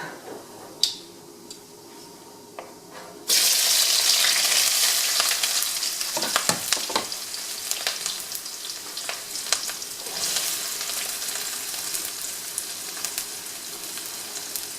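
Onions hit a hot pan for Indian-style cabbage and burst into a loud, steady sizzle partway through, after quieter kitchen clatter. The frying continues alone with scattered crackles and no talk.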